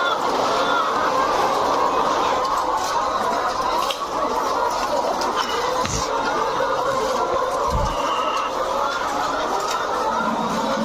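Layer hens on a large egg farm of about 6,500 layers keep up a dense, continuous din of clucking and cackling, with no voices heard.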